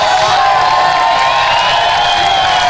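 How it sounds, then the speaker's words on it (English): Crowd noise at a Queensland Basketball League home game, Toowoomba Mountaineers versus Logan Thunder, a steady, loud wash of cheering and hollering that carries evenly through the whole stretch with no break. "They deserve to hear the admiration of the crowd."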